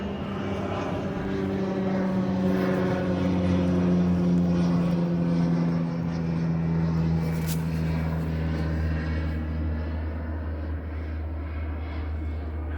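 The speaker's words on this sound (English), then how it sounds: "that's the park float plane" A park float plane flying over a lake in Algonquin Park, its propeller engine droning loud and steady with a low harmonic hum that holds throughout and eases slightly toward the end.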